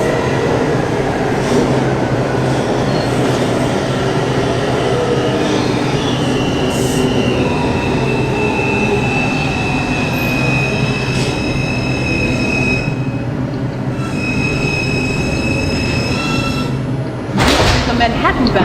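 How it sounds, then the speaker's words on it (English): A New York City Transit R142 subway train on the 5 line, running Manhattan-bound from Newkirk Avenue toward Beverly Road, roars steadily with rumbling wheels and rising motor whine, a sharp clatter near the end. "the Manhattan-bound 5 train"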